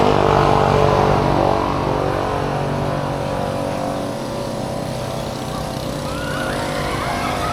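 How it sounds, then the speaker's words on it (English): Loud motor engines roar past on Siargao Island in the Philippines, starting strong and fading to a steady, continuous drone over several seconds with no speech. "You know, loud motorbikes used to bother me."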